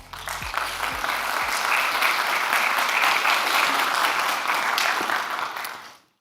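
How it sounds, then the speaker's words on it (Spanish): A conference audience at a cybersecurity event in Galicia applauds warmly, the steady clapping building after a few low thumps and then fading out near the end. "aplauso para él"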